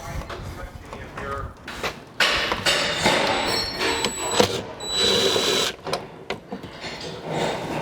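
Rear left tail light being pried and pulled out of a 2016 Audi S6, with bursts of plastic clicking, scraping and rattling over steady background noise and a voice talking throughout.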